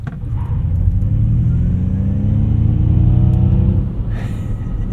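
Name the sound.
Ford Mach-E electric car accelerating on entrance ramp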